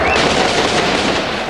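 Police open fire in a Bosnian city in a loud, dense burst of rapid gunfire that fills the whole moment without letup.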